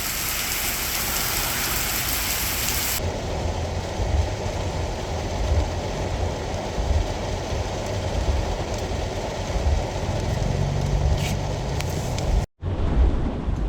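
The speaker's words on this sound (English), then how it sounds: "it is raining a lot right now" Heavy rain pours steadily during a Singapore thunderstorm as a dense, continuous hiss, heard from inside a moving car. The sound changes character partway through, then cuts off abruptly near the end.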